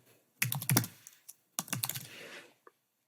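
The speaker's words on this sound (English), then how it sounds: "we're just going to type in the website we want to go to" Keys clatter on a computer keyboard while a website address is entered, two quick bursts of close, crisp typing separated by a short pause.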